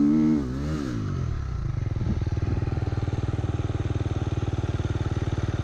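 Dirt bike climbing a hill, engine note dropping as the rider lets off the throttle, then a steady, loud chugging low-rev pull with rapid rhythmic pulses close by.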